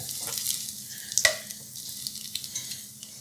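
An egg sizzles and crackles in a ceramic nonstick fry pan, a soft continuous frying hiss with one sharp scrape or tap near the start and small pops scattered through the rest.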